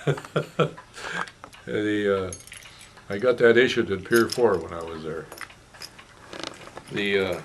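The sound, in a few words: metal Coast Guard dog tag jangling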